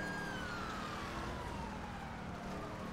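A police car siren wails in the GTA video game during a chase, sweeping steadily downward and sounding continuous and fairly loud through the short stretch, with no talk.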